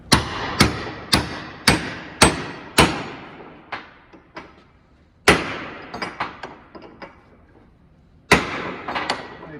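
Hammer blows drive a kingpin bushing into a Ford half-ton truck: sharp metallic strikes in a quick series of about six, a pause, scattered lighter taps, then more hits, close and loud.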